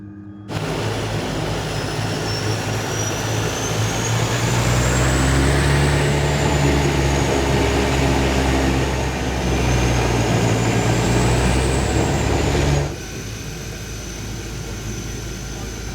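The de Havilland Twin Otter seaplane's engines drone loud and steady from inside the cabin, a continuous roar with a slowly shifting whine that drops off sharply near the end; no one talks over it.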